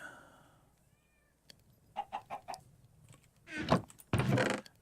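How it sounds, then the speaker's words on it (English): A pet cat meows repeatedly for attention, a few short calls followed by two louder, longer drawn-out meows close to the listener, with no talk over them. "My brat of a cat just got to be craving the attention all the time."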